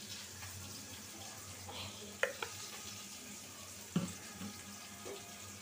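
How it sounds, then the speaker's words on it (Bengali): Vegetables frying in oil in a kadai make a faint, steady sizzle, with a few soft utensil clinks and scrapes now and then. "কড়াইয়ে দিব তেল, তরকারি বসায় নিব।"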